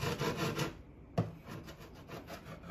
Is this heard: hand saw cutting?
yes